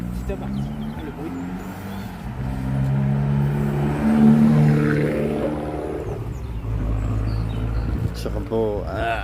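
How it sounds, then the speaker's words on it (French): A car engine hums steadily and swells into a rising revving tone, with a turbo whine on top, in a small Breton village street. People talk over the engine throughout. "un bruit de turbo"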